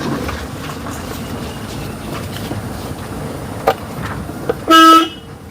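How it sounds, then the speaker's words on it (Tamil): A car horn gives one short, loud honk near the end, during a driving lesson on the road, standing out over steady traffic and engine rumble. "ஹார்ன் மட்டும் கரெக்டா அடிச்சு."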